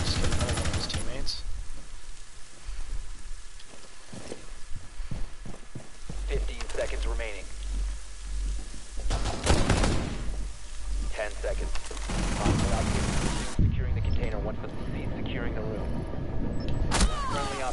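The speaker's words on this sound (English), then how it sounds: "Fucking shotguns, man. They down you instantly." Shotgun blasts and gunfire from Rainbow Six Siege ring out in dense bursts under a player's close, agitated talking, with sharp loud reports scattered across the stretch.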